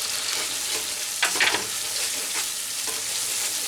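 Spices frying with red chili powder in a pan for a vegetarian pointed gourd dish, a continuous close sizzle with a brief burst of stirring midway, no voices.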